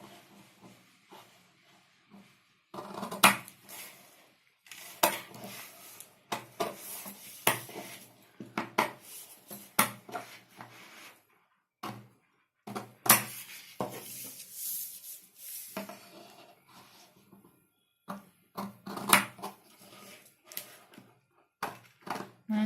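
Scissors cutting blouse fabric along a drawn line for a heart-shaped back-neck design: close, irregular bursts of crisp snipping and rustling cloth, with short pauses between runs of cuts.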